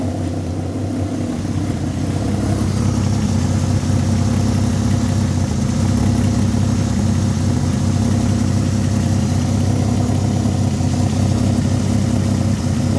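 A Peugeot 206 fitted with a VR6 engine idles steadily and smoothly at close range, a continuous low rumble with an even beat that holds for the whole stretch without revving.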